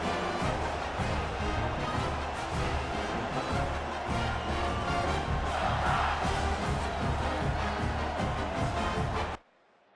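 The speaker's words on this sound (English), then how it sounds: "This crowd, full throat, splitting the eardrums and letting them know it's going to be a long day." Stadium crowd noise in the College Football 26 video game is a loud, dense roar of cheering that holds steady for about nine seconds, then cuts off abruptly.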